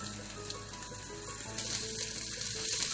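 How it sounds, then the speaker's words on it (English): Pomfret fish frying in oil on a low flame gives a soft, continuous sizzle and crackle, quiet and steady throughout with no voices. "allow it to fry on a low flame"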